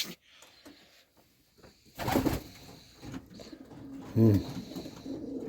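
Soft pigeon cooing nearby, with rustling and a burst of fluttering or movement, while low background noise continues throughout.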